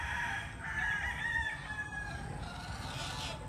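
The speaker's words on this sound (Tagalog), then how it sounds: "Yan mga matatandang manok." Older roosters and chickens crow and cluck in a gamefowl yard, several drawn-out crows rising over a steady bed of rustling farm noise, moderately loud and close, with no talking.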